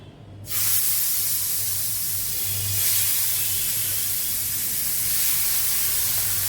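Fish are laid one by one into hot, smoking oil in a large flat griddle pan. A sudden loud sizzle bursts up and holds as a steady, close hiss.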